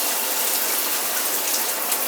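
Water gushing steadily from a Symmons shower valve, a loud continuous hiss and splatter with no pauses or voices.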